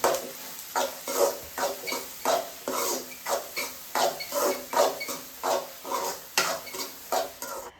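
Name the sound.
egg frying and being stirred with garam masala and salt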